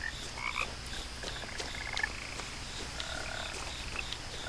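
Several croaking frogs in What Remains of Edith Finch, some close and some farther off, sounding in short bursts over a quiet, continuous ambient background with no talking.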